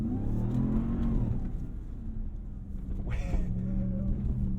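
A 2022 RAM TRX pickup's engine builds under throttle in Baja mode, a close, rising rev that falls back briefly, then surges again with a steady growl.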